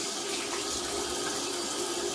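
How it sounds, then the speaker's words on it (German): Tap water runs steadily into a sink while a safety razor is rinsed after a wet shave, a soft even hiss and splash at moderate distance with no voices. "So, den Hobel kurz abspülen."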